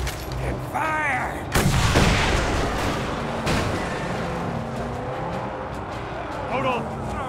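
A black powder gun fires a loud blast in Mad Max, followed by a second heavy boom, over constant car engine roar and game character shouting.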